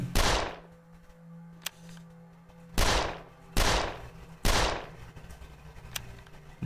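Gunfire in the video game 13 Days in Hell: four sharp, loud shots spaced about a second apart with short decaying tails, plus a small click, over a low steady in-game hum.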